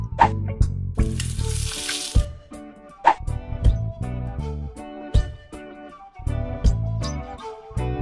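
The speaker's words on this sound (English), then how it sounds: "Waffle iron." A short sizzling hiss from a waffle iron in a children's farm-themed video game, lasting about a second beneath bright, bouncy cartoon music that plays throughout.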